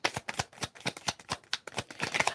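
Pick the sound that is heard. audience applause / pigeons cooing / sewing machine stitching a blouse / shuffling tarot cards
shuffling tarot cards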